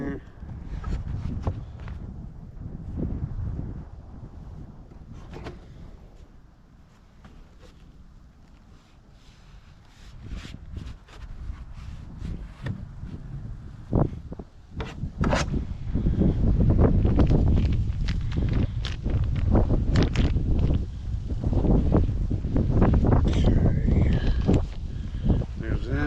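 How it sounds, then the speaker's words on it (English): Outdoor wind gusts and buffets a microphone beside winter beehives, rumbling low and rising stronger in the second half, with rustling and handling noises and a person speaking at times. "The wind's starting to pick up a little bit here."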